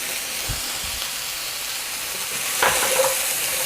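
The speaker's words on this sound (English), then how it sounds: "You can hear that sizzle, means our pan's good hot." Hard vegetables for Tuscan bean soup sizzle steadily in a hot pan, a continuous close frying hiss with a few soft stirring scrapes and a brief louder flare near the end.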